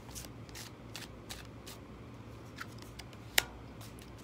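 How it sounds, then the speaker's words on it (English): Tarot cards riffle and slap together in a few quick shuffling bursts, close and fairly quiet, ending with a sharp snap. "One more shuffle here."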